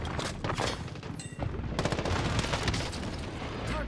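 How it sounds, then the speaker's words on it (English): Rapid bursts of automatic gunfire and heavy explosive booms from an airstrike fill a Call of Duty Warzone match on Rebirth Island, loud and dense with a short lull before the barrage resumes. "Airstrike incoming."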